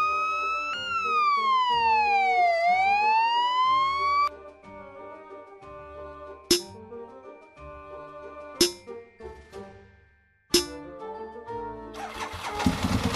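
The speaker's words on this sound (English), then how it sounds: "Fire truck." A fire truck siren wails with rising and falling sweeps, then gives way to several sharp engine or horn blasts at intervals, ending in a noisy engine rumble.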